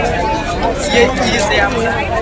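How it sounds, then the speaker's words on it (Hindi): Dense crowd hubbub near India Gate in Delhi on a busy evening, a steady wash of many overlapping voices close around, with one nearby voice talking over it. "बहुत ज़्यादा भीड़ है यहाँ पे"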